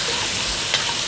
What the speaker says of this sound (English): Now I do have this on a high heat, so it's going along quite nicely, keeping everything fried